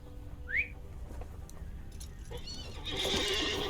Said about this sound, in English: Let's ride the steed of the burglar.